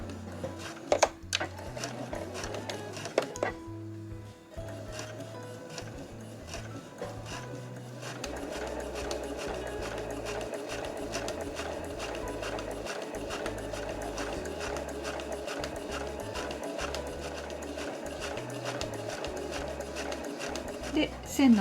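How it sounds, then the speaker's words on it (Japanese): A sewing machine stitches a reversible drawstring tote bag, starting with a few short bursts and then running in a long steady rapid chatter, with someone talking quietly underneath. "この縫い目を重ねながら返し縫いをして ずーっとここを縫って、ここで縫い目を重ねておきます。"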